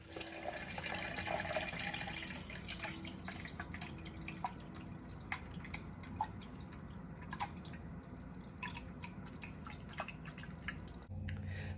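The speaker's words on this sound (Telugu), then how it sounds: "ఇప్పుడు మనం ఏం చేద్దామంటే అందులో 4 liters ఆఫ్ వాటర్ వేసుకుందాం." Water goes into a container of tepache ingredients made with pineapple, a faint steady stream running throughout with small drips and clinks scattered over it.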